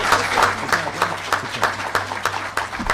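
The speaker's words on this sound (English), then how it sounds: "How about a round of applause for both of our" An audience at a state senate district debate hosted with the University of Scranton claps in a sustained round of applause, with individual claps rhythmically audible and some voices mixed in.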